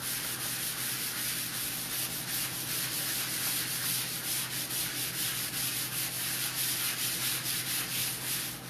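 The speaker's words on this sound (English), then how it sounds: "I'm gonna come through with the Dixie Belle sanding pad. This is a 220 grit sandpaper" Steady, soft scratchy rubbing of a 220 grit sanding pad over wood, continuous and close, with no voices.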